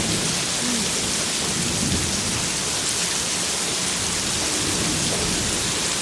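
A thunderstorm in Laurens, South Carolina, with heavy rain pouring steadily and a dense roar of rumbling thunder mixed in, loud and continuous throughout with no voices.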